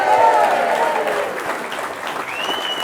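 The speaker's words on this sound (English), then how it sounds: "No, you can clap, yeah, thank you." Audience applause at a political launch rally in Newcastle as Howard Cox is welcomed on stage, a dense continuous clatter of clapping from a crowd with a voice over it at the start and a whistle near the end.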